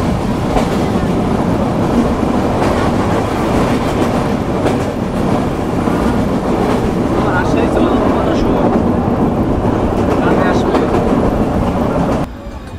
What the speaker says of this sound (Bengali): আমরা আমাদের নির্ধারিত যাত্রাবিরতি শেষ করে এখন ডিপারচার নিচ্ছি কোটচাঁদপুর রেলওয়ে স্টেশন থেকে।